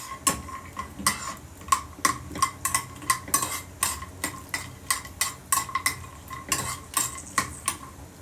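Mixed nuts such as almonds and hazelnuts being stirred and toasted in ghee, a utensil clinking and scraping against the pan in a steady rhythm of sharp taps over a faint sizzle.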